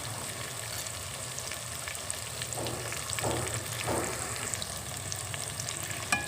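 Turmeric and chili powder sizzle in hot oil in a pan for an egg and crab curry, a continuous close frying hiss with a few brief stirring scrapes midway and no voices.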